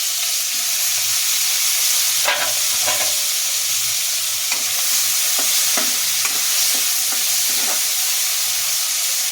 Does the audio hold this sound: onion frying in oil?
yes